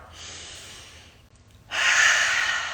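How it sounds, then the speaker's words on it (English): A deep breath drawn in and let out during a guided group meditation circle, a soft airy inhale followed by a louder, rushing exhale, close and alone with no talking. "Take a deep breath in and out."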